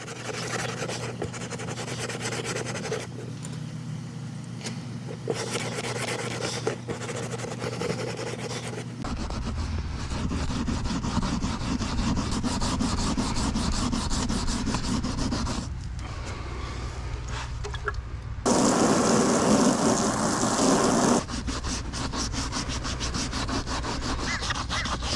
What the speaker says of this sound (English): So first I'll just use some water and rub this all just to get it as clean as possible.